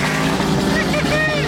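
A turbocharged Chevrolet Silverado truck with a slipping 4L80E transmission drives along, its engine droning loudly with rising and falling whine, while a voice talks over the motor.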